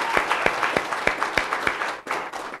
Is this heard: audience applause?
yes